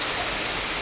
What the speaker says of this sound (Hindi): और जैसे अंदर आए वहीं बारिश हो गई बंद, एकदम होने लगी फिर तेज़ी से